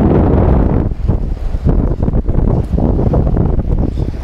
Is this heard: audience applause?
no